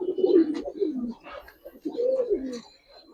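A ring-eyed pigeon at a pigeon farm gives two soft, rolling coos in succession, close by and clear, with little else around.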